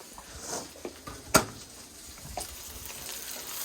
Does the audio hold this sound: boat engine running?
no